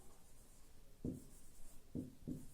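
Marker or chalk strokes on a classroom board, three brief soft taps and scrapes, the last two in quick succession, faint against a low room hum.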